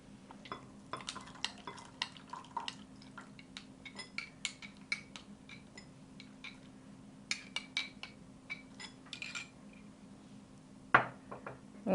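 Coconut milk is stirred into sago and vermicelli payasam in a pot. A spoon gives faint, irregular clinks and light knocks against the metal, with one louder knock near the end.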